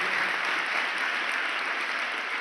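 An audience claps continuously to welcome the RSS chief at a gurukul gathering in Rajkot, a thick, even roar of hand claps with no pauses.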